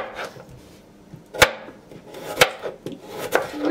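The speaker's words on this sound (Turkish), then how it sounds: "Turbu uzun uzun doğruyorum." A knife strikes a cutting board in a few sharp, irregular chops, cutting radish into long strips, with quieter slicing and scraping sounds between them.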